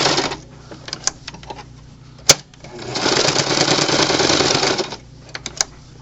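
Sewing machine stitching the narrow smokestack area of a fabric toy train, with short bursts of stitching, a sharp click, then a steady run of about two seconds, fairly close and moderately loud.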